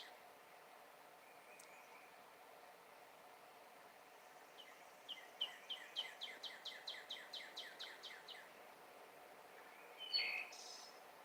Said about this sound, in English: I'm going to sit and be quiet so you can hear the birds.